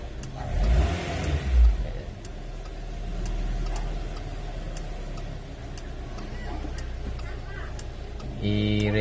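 A car engine revs up after a freshly cleaned throttle body, rising and holding before settling back toward idle, loud and close with a faint ticking, and a voice speaks over it.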